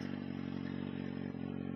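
Kawasaki Z750 motorcycle engine held at a steady high rev, a loud, close, continuous drone with a rich low hum and a faint clatter, no talking.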